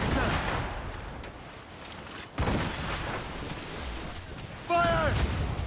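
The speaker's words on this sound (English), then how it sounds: "We're being raided with their long guns, sir!" Enemy long guns fire from a ship during a naval raid in Assassin's Creed Rogue, booming blasts over rumbling battle noise, with a crew voice calling out near the end.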